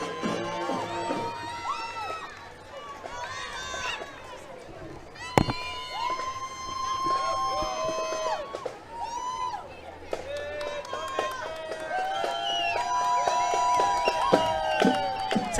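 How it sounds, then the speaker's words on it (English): Family members cheer on a marching band at the Los Altos Festival of Lights parade in 2023, with crowd shouts and cheering mixed among whistles and music through a long, busy stretch of evening street noise. "They're cheering the band on."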